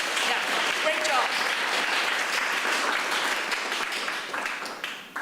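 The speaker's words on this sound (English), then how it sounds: "So please give a round of applause to the contestants and the organizing committee." Sustained audience applause at a youth English public speaking contest final for the contestants and organizing committee, a dense steady wash of clapping filling the room, fading slightly at the end.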